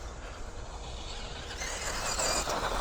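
A Tamiya DT-04 RC race buggy with a Hobbywing speed controller running at full throttle on a track, giving a steady rushing drone with a thin high electric motor whine that rises and strengthens partway through.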